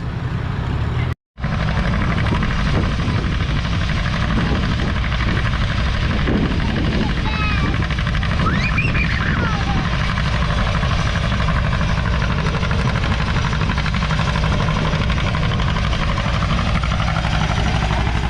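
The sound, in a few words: John Deere B tractor engine at a tractor pull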